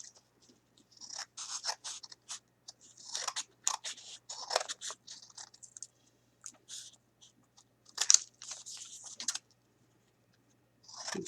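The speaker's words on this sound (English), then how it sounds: "I can trim around those edges" Scissors trim the fabric edges of a homemade computer mousepad in quiet, close snips and scratchy cuts. The cutting comes in uneven clusters with brief pauses between them.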